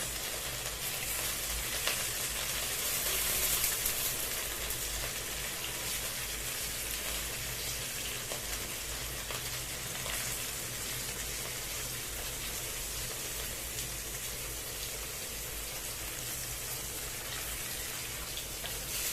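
Floured mullet fries in hot oil with a steady, dense sizzle and crackle that holds at an even level throughout, with no voices.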